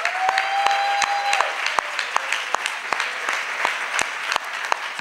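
A church congregation claps in worship as an offering to Jesus, steady dense clapping with distinct loud claps punctuating it, and a brief sustained tone near the start.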